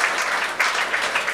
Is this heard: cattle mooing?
no